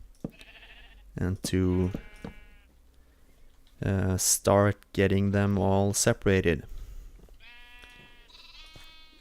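Blocky Minecraft sheep bleat in short, wavering calls near the start and again at the end of the clip, with a voice talking at length in between.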